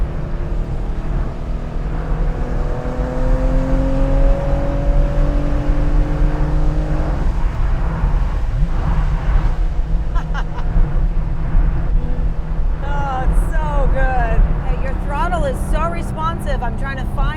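A Porsche 911 engine revs hard above 4,000 RPM and climbs in pitch, roaring loudly up close on a city bridge, then shifts as chirpy high-pitched sounds flicker in near the end.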